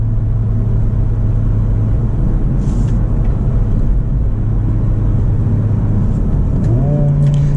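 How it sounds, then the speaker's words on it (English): A 2024 Honda Civic Type R engine rumbles steadily up close, then blips and rises in pitch near the end as revs climb while rev matching on a downshift. "Now that's that car doing the rev matching."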